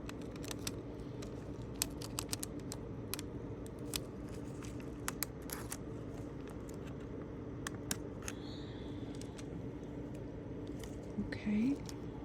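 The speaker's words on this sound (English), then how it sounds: "I'm going to get my little scissors, and I'm going to cut a couple of pieces here." Small scissors snipping nail foil pieces, a scattered run of quiet, close, crisp clicks and snips against a low background hum, with brief soft murmuring near the end.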